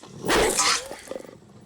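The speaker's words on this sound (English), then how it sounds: "Never mind. That's a dog." A dog in a film scene snarls and lets out a loud growling bark, then a few shorter, quieter growls trail off, close and clear with no talk over it.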